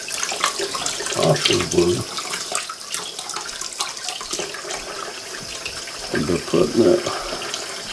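Water from a tap runs steadily into a sink while a steel wool pad scrubs a metal gun part to neutralize the finish, a continuous close splashing with swells of louder rubbing, and someone talks over it.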